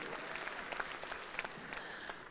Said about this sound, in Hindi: जरा एक बार इनके लिए जोरदार ताली बजाओ